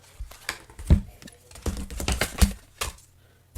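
Tarot cards pulled one by one from a deck, a string of close, soft papery flicks and taps with a few sharper slaps of cards landing.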